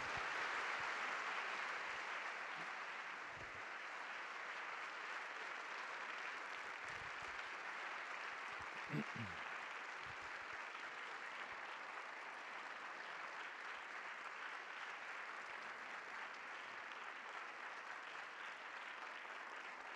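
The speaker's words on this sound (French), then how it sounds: "On peut les applaudir, merci." Audience applause at a conference hall, a steady sustained clapping from many people that holds evenly throughout, with a few faint background sounds but no talking.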